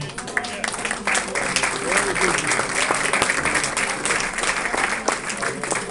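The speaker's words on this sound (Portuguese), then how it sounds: "Aplausos ao Senhor." A church congregation at an Easter service breaks into sustained applause, a dense wash of clapping that holds steady for several seconds, with a voice speaking over it.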